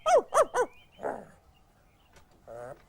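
A dog barking in a Button Moon episode, three quick sharp barks in a row, then a softer yelp and a later whine-like bark, fairly close with faint background sounds.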